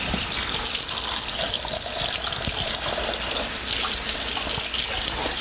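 Water runs steadily from a tap while something is rinsed off during burger preparation, a constant, close gushing hiss with no pauses.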